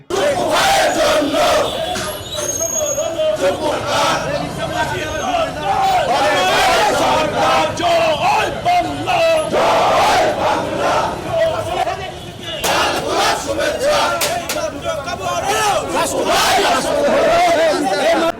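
A celebratory Awami League procession fills a street in Pabna town, the crowd chanting slogans and shouting in loud, continuous waves with dense babble throughout and a brief dip near the middle.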